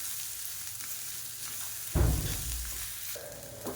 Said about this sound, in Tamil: இதையும் சேர்த்து லேசாக பரட்டி விட்டுருவோம்